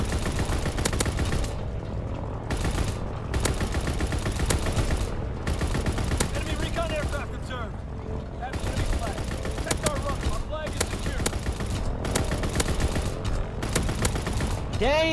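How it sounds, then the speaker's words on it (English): A ball turret gunner's machine gun in a shooter game rattles in long rapid bursts with brief pauses, heavy and continuous against a rumbling battle backdrop, with voices partly over it. "Damn, ball turret gunner going crazy"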